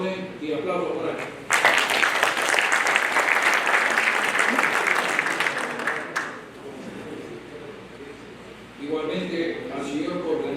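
Applause from a crowd at a panel discussion swells suddenly and lasts around five seconds before fading, with a voice speaking before and after.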